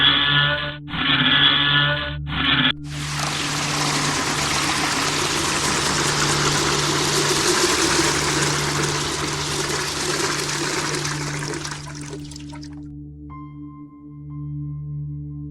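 Valve turned in the Xbox indie horror game Decay: a few short mechanical clunks, then a loud, sustained rush of water surging and churning for about nine seconds under a low hum before tapering off to a faint drone.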